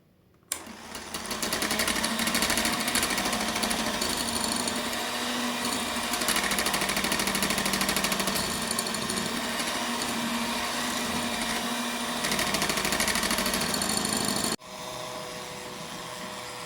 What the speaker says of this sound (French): Ajoutez graduellement par cuillère à soupe 155 g de sucre en poudre tout en continuant à battre.